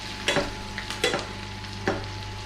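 Butter, garlic and thyme sizzle in a pan, a low steady frying crackle broken by three or four sharp clinks and clatters as ingredients drop in, with no talking.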